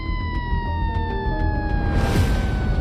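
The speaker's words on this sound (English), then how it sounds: "Sirens wail, a symphony of urgency." Sirens wail continuously during a wildfire in Los Angeles, several overlapping steady tones sliding slowly downward, loud and sustained over a dense rumbling background with a swelling noisy rush near the end.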